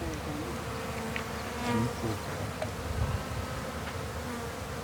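Honeybees buzz steadily and close by while a colony is moved into a new hive on a small farm, a dense continuous hum with brief swells, and a person speaks a word partway through.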